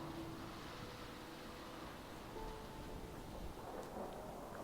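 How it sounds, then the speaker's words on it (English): Radioactive storm in the game Fallout 4, with steady dense rain and a low rolling rumble of thunder filling the scene continuously, loud and close, with no voices. "Let's get inside before we get radiated by the storm."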